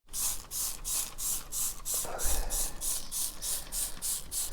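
Jet wash pressure-spraying a speedway bike, a close hissing spray that pulses in rapid regular bursts, with a brief heavier splash partway through.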